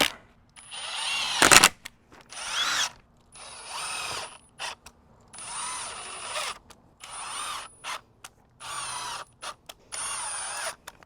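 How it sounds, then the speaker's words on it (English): A power drill drives screws through a cheap furring strip into a garden hoop house frame in about seven bursts, each a whining, ratcheting run of a second or so, with short pauses and a sharp knock between runs. "so I can go ahead and drive my screws without having to worry about splitting out this cheap,"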